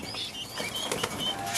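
A domestic pigeon beats its wings in quick flurries while being held in the hand, the flapping close and continuous with soft feathery bursts.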